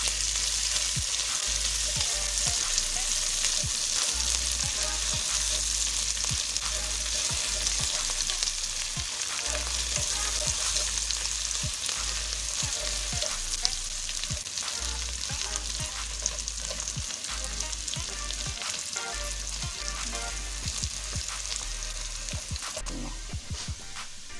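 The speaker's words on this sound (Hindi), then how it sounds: "ये लहसुन अदरक का पेस्ट 1 चम्मच शामिल कर रहे हैं, इसको भी बीच में फ्राई कर रहे हैं।" Garlic ginger paste frying with onions in a pan, a loud continuous sizzle under frequent stirring and scraping, with no speech.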